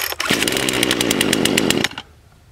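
A five-year-old Poulan Pro 4218A chainsaw catches after a pull-start and runs loud and close with a rough, buzzing idle for about two seconds before cutting out abruptly.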